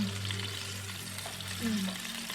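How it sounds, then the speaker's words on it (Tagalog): Dried fish (daing) fries in a pan with a loud, steady sizzle and crackle, close up and continuous, over a low background hum. "magluluto tayo ng daing. Magpiprito na tayo."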